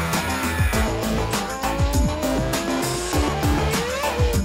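Formula 1 race car engine revving hard at very high speed, loud and continuous with rising and falling gear-shift sweeps and the high-pitched whine of the engine throughout, no voices.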